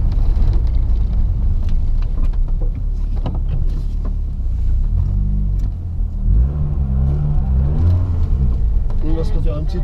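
A 1991 Renault Clio 16S engine rumbles and revs while driving, its pitch rising and falling through several accelerations from inside the car, with talking over it.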